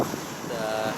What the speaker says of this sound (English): It's really windy, so I don't know if you guys can hear us that well.